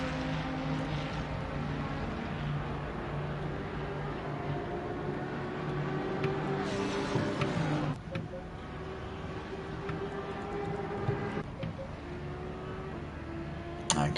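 GT3 race car engines in the pit lane in Assetto Corsa Competizione, one car running on the pit speed limiter: a steady, droning engine tone that swells and shifts pitch partway through before settling again.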